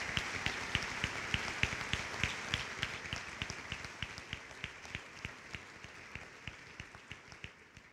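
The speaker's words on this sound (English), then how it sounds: "Please give them another round of applause." Scattered hand clapping from an audience at a high school academic awards ceremony, a sparse, moderately distant round of applause that thins and fades toward the end.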